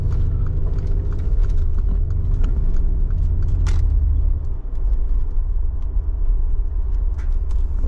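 A Mercedes G63 SUV drives along a road, its engine and road rumble loud and continuous from inside the cabin, with small clicks and knocks scattered over the steady drone.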